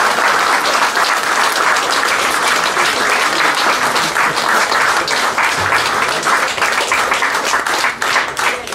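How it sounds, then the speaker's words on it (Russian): Audience applause in a hall at an aviation school event, dense steady clapping from many hands sustained loudly throughout with no speech over it. "Давайте похлопаем."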